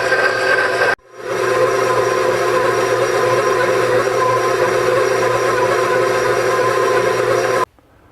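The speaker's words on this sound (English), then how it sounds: "I put the bowl in my stand mixer with the dough hook attachment attached here, and I want to go ahead and mix this together" Stand mixer with a dough hook kneading burger bun dough, a loud steady motor whir and drone that starts abruptly after a second and cuts off near the end.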